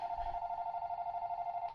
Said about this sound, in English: I literally had it to block telemarketers, and it rang 4 times before it's like blocked message